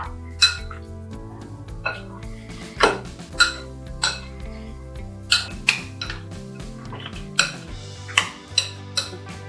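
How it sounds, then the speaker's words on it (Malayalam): A chilli chicken marinade with egg, chilli sauce and soy sauce is mixed in a bowl, giving sharp, irregular utensil clinks and scrapes close by over steady background music. "നന്നായിട്ടൊന്ന് ഇളക്കി യോജിപ്പിക്കണം."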